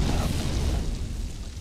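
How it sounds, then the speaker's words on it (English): A deep booming explosion from the Borderlands video game, a loud, dense blast with a rumbling low end that fills the whole short moment and tails off slightly at the end. "That was a nice explosion."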